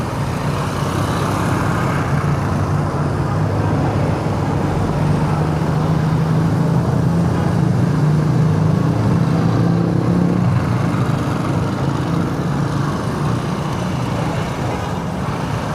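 Steady roadway noise in a congested street outside a school at dismissal time, a continuous rumble of slow cars, trucks and motorbikes with an engine drone holding throughout.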